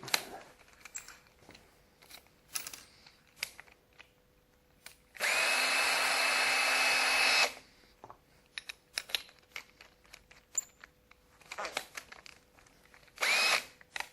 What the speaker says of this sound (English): drill straight through.